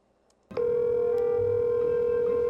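An outgoing telephone call that goes unanswered: after half a second of near silence, a loud, steady electronic call tone starts and holds without a break.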